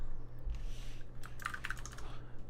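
Brief burst of computer keyboard typing during a programming session, a quick run of close, light key clicks over a steady low electrical hum, with no talking.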